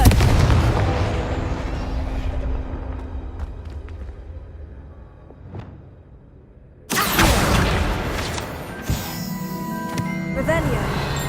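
Fiery spell blast in the Hogwarts Legacy game: a crackling magical burst fades into a quiet stretch, then a sudden loud explosion with rumbling debris and lingering crackle.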